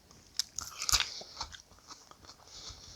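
Crisp bites into a thin deep-fried parsnip chip, several sharp crunches followed by softer chewing, close and fairly quiet with no talking.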